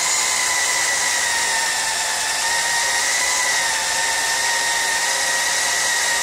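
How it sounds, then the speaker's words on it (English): A drill bit grinds steadily through half-inch steel plate under firm pressure, a continuous loud high-pitched whine with a bright metallic edge holding level for the whole stretch with no pauses and no voices. "so that bit has a chance to really bite into the metal and let it work and keep it cool"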